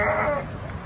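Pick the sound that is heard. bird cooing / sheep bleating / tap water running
sheep bleating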